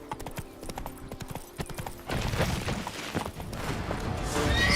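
Horse gallops in The Witcher 3, rapid rhythmic hoofbeats close and clear, then shifting into a rougher, louder thudding run over rustling ground.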